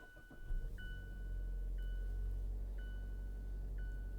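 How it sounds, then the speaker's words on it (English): A 2019 Mazda CX-5 GT-T is push-button started, with a brief cranking rise followed by a steady low engine idle hum and faint repeated electronic chimes in the cabin. "Vehicle starts right up"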